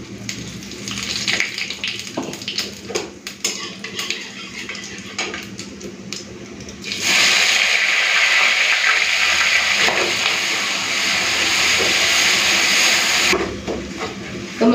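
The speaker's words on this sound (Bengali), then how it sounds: "তেলটা গরম হয়ে গেছে, জিরে আর তেজপাতা ফোড়ন দিয়ে মশলা বাটাটা দিয়ে দেবো।" Cumin seeds and bay leaves tempering in hot oil, followed by spice paste dropped in, bursting into a loud, steady, close hissing sizzle that holds for several seconds before easing, with light clatter from the pan.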